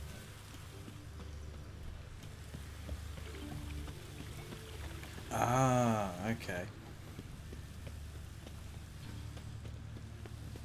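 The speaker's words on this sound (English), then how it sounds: "What happened to the rain, and here it is." Rain in The Witcher 3 video game, a steady soft patter and hiss that runs evenly throughout, while someone speaks briefly over it in the middle.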